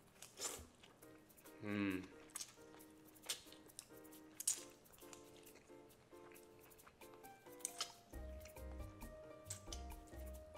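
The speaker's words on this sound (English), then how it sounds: "let's begin eating then" Close slurping and wet chewing of spicy fire noodles, pho and spring rolls, with clinks of utensils against a bowl and a short hum of enjoyment.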